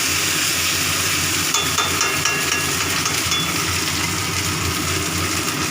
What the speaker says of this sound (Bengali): আর জিরে গুঁড়ো এটা দিয়ে এটাকে কষে নেবো